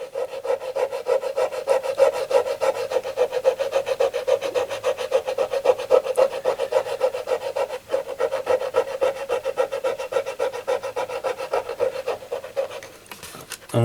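A silver hammered coin is rubbed with lemon juice and aluminium powder, making a steady, close, gritty scrubbing with continuous back-and-forth strokes throughout and no voices.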